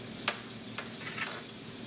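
Four cloves of garlic sizzling in a pan for arroz con pollo, a soft continuous frying hiss with a few light stirring scrapes, faint and close.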